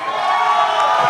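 A large Texas crowd at the Jake Paul vs. Nate Diaz pre-fight press conference cheers loudly and steadily, a brief, sustained wash of voices and whoops filling the hall.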